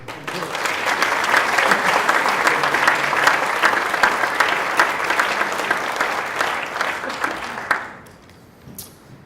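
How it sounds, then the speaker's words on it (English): A crowd at a graduation luncheon applauds steadily for several seconds, a dense wash of clapping that drops off abruptly near the end, leaving quiet room noise. "Round of applause."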